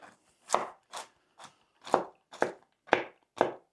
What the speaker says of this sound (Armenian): Հաջորդ քայլը պետք է որ մենք պոպոկը մանր կտրատենք։